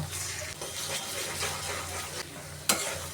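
Egg is stirred into snake gourd frying in a pan, giving a steady close sizzle with soft scraping strokes and one sharp clink near the end.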